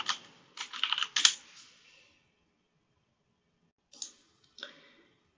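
Quick bursts of typing on a computer keyboard while renaming a folder, a close cluster of clicky keystrokes followed by a pause and two more isolated taps.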